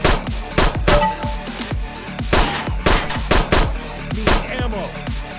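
Rapid pistol shots fired in the World of Guns video game, about a dozen sharp, loud cracks in quick irregular succession, each with a short decaying tail, alone without talk.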